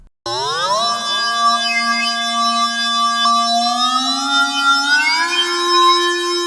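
A bright synthesizer line of pure, buzzy tones with slow 520-millisecond pitch glides between notes and a formant filter giving a vowel-like, voice-ish coloring, in a Jersey club beat made in FL Studio.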